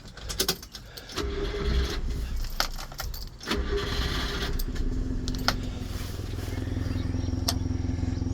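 A 1993 Subaru Sambar 4x4 dump truck with a 5-speed manual: keys rattle, the starter cranks in short bursts, then the small engine catches and settles into a steady idle.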